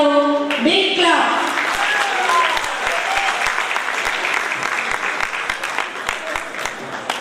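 An audience at a Khammam meeting on women's political reservation gives a big round of applause, with a voice speaking briefly at the start before dense, sustained clapping fills the rest.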